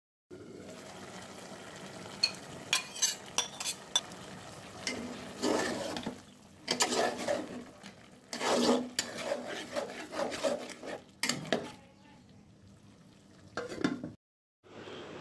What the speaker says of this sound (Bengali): পুঁই শাকের ডাঁটাটা এখন সিদ্ধ হয়ে আসছে